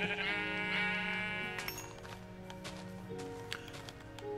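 Several sheep bleats from Minecraft, the wavering cries overlapping early on, then sparser blocky game sounds and soft clip-clop steps follow.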